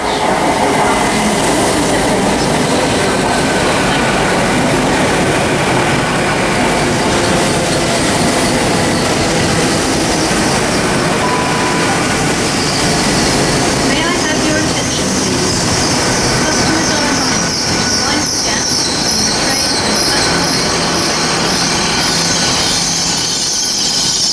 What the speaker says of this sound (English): arriving now is the 1403 service from Great Western Railway from Swansea to London Paddington